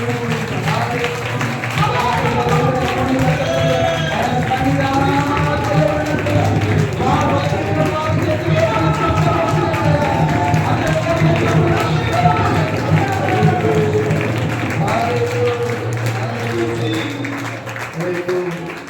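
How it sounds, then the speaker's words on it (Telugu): A church congregation at a village prayer gathering in Chirrikurapadu claps hands together in praise, steady loud rhythmic clapping sustained throughout, mixed with voices and music underneath. "అందరూ ఒకసారి చప్పట్లు కొట్టి దేవుని స్తుతించండి"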